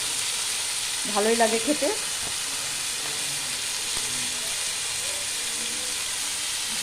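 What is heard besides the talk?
lau (bottle gourd) peel frying and being stirred in pan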